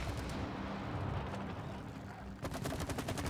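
Gunfire from the co-op video game It Takes Two, a dense run of rapid shots that thickens into a louder, choppier burst near the end, steady and close throughout.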